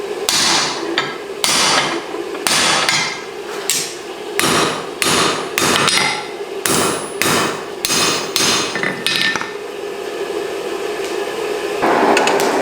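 A blacksmith's hammer repeatedly strikes hot iron on an anvil while forging bolt tongs. The blows are loud, sharp and close, coming in an uneven rhythm of about a dozen strikes with short pauses between, and no one speaks.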